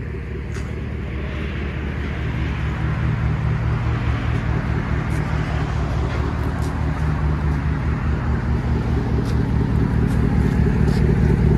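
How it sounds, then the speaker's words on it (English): A 2008 GMC Sierra pickup truck with straight pipe exhaust idles steadily, a deep, loping, throbbing rumble heard up close and continuous. "That's at an idle."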